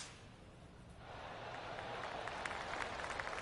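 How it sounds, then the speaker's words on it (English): Distant, gentle golf claps from a crowd around the final hole in the PGA Tour 2K25 video game, rising from quiet into a steady patter of applause. "Oh, I can hear the golf claps around the course."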